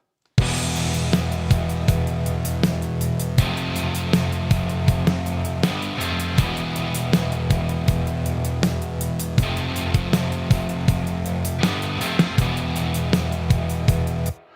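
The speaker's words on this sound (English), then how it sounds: "just like a straight rock kit pattern" A straight rock drum kit groove from Logic Pro Drummer with simple kick and snare on a steady beat and cymbals washing over it, playing continuously for about fourteen seconds with no voices.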